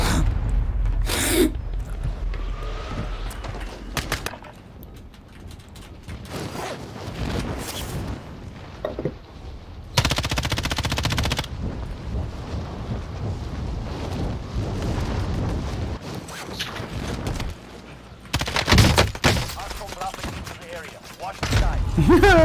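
Video game gunfire erupts in loud bursts of shots and booms, mixed with explosive impacts, while a player talks and laughs over the action.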